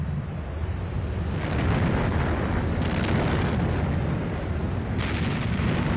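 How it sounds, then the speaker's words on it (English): Naval artillery shells from a dreadnought battleship firing and exploding, a dense rumbling roar that swells in heavy bursts with low booming weight throughout. "She sends in 59 shells and demolishes her first target."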